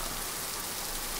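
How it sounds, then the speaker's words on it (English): Rain ambience plays as a dense, steady hiss of rainfall, constant and even throughout, with no breaks or voices. "That's rain, that's not static."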